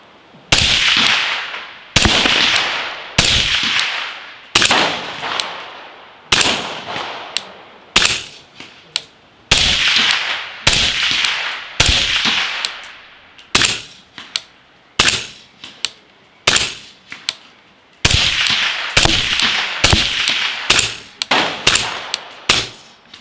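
Suppressed 300 Blackout rifle firing both supersonic and subsonic rounds: a long run of about twenty sharp, loud, close reports in quick, uneven succession, with no talking.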